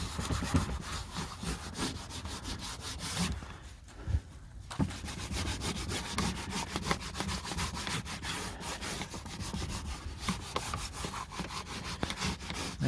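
Small towel rubbing adhesion promoter onto the plastic rear bumper of a 2019-2021 Toyota RAV4 to clear grease, giving quiet, rapid back-and-forth scrubbing strokes with a brief pause partway through.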